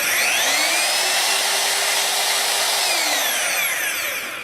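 A DeWalt DWE1622K two-speed magnetic drill press motor runs steadily at close range, a loud sustained whine with a slight pitch sweep as it spins up and settles, then tapers at the end.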